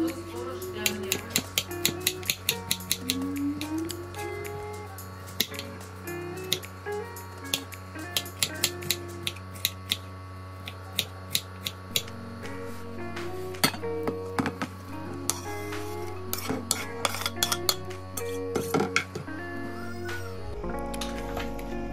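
Knife cutting an apple into cubes for a salad, crisp repeated chopping taps against a board at an irregular brisk pace, with a person speaking over the cutting and a low steady hum behind.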